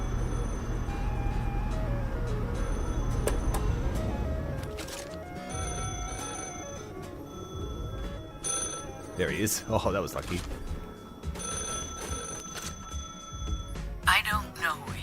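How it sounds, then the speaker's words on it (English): A telephone bell rings in The Last Caretaker video game, a repeated ringing over a droning hum while a person talks over it. "Now is not the time for a phone call. Can you get that, please?"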